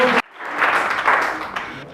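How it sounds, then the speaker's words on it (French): Wedding guests at an official civil marriage ceremony in Congo Brazzaville break into steady applause for the witnesses, a dense room-filling clatter of many hands that starts abruptly after a brief moment of speech and holds to the end. "Applaudissez pour les témoins"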